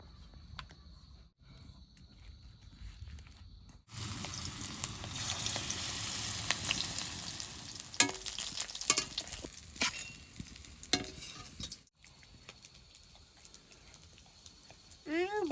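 Cabbage chops stuffed with potato fry in hot oil, a steady crackling sizzle starting after a quiet opening, with occasional clatters and scrapes from handling the pan nearby.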